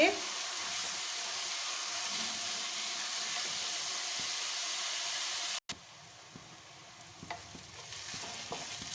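Onions fry in a pan for a capsicum (shimla mirch) sabzi, giving a steady broadband sizzle and hiss close up that runs unbroken for about five seconds, cuts out briefly, then resumes slightly quieter with a few small pops.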